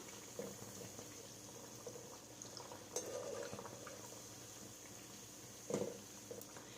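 Seeni paniyaram, a sweet Adirampattinam-style fritter, sizzles and bubbles softly in hot oil with a steady low crackle, broken by a few brief louder clinks of a pan or utensil.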